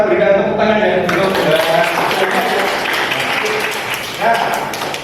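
Applause from a lecture audience during a university teaching session, a steady patter of many hands clapping that fills the clip, with a voice speaking over it near the start.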